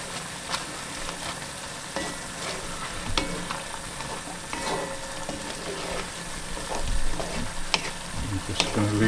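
A spoon stirs crushed chili into a quick lunch of food cooking in a pan, with a continuous low sizzle broken by scattered scrapes and taps against the pan. No one speaks.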